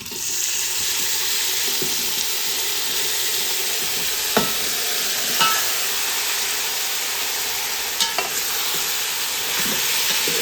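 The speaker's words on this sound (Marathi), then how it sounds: "फोडणीला मटण तर मटण आहे ते मी घालून घेते" Mutton frying in an onion tempering for spicy mutton masala sizzles with a constant hiss, broken by a few sharp clinks and scrapes of a spoon stirring in the pan, close and without talk.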